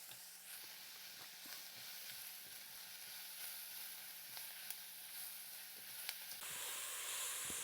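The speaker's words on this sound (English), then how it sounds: "we're going to saute the onions and the mushrooms together" Onions and mushrooms sauté in a pan, giving a soft, steady sizzle and hiss with occasional faint clicks of stirring, heard alone and fairly quiet.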